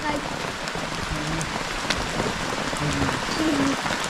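Rain falling steadily on surfaces outdoors, a dense continuous patter close by with faint voices and bird-like calls in the background.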